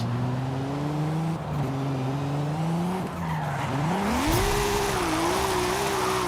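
Tires squeal in a sustained drift in Forza Horizon 5, a steady engine drone rising and falling with the throttle, then building louder toward the end.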